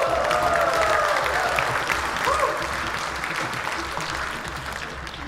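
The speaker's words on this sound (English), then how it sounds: "this is worth a big round of applause, Latafale just sang that song in 25 language" Applause from the audience at a Miss Samoa NZ beauty pageant, a sustained round of clapping with a few cheers that slowly fades toward the end.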